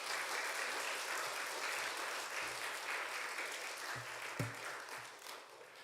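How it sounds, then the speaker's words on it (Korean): Church congregation applauding in a Korean service as a seminary president comes forward; a fairly soft, even wash of clapping lasting several seconds with a few low thumps, fading slightly toward the end. "큰 박수로 환영해 주시면 감사하겠습니다"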